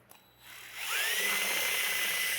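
A power drill spins up with a bit chucked in, rising from a brief start into a loud, steady whine that holds to the end.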